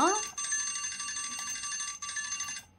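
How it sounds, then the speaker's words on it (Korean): A bright bell rings steadily for nearly three seconds, a clear sustained metallic tone with a brief break partway through, heard close and alone. "어이구, 종이 울렸네요."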